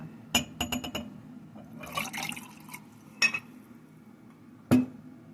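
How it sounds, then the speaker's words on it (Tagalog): Vinegar is poured into a container holding crystals, with a trickling liquid sound broken by several sharp glassy clinks and knocks, fairly quiet and close, with no talk. "lagyan po natin, dagdagan po natin ng more suka"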